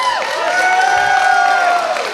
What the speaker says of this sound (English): Can I get a quick round of applause?